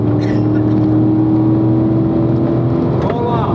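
A Corvette engine drones loud and close on a racetrack, holding a steady strong tone as the throttle is picked up, with no speech over it.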